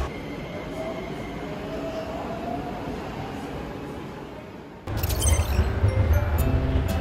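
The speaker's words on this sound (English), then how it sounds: "here I am at Andingmen Metro Station where I go to work." Metro train in a Beijing subway station, a steady low rolling rumble that suddenly swells louder partway through as the train draws close, with no talk over it.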